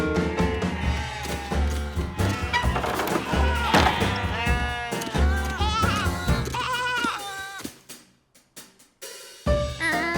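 Several cartoon sheep bleat loudly in overlapping, wavering cries, with some clattering, before things briefly go quiet.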